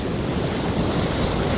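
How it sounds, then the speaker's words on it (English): Big ocean waves break on a beach as a loud, steady wash of surf, with wind noise across the microphone. "looks like some big monster waves here coming for"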